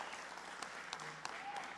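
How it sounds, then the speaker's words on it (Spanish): Sunday church congregation applauding, a steady wash of many hands clapping at moderate distance, with a few faint voices underneath. "¿Por qué no le dan un fuerte aplauso al Señor?"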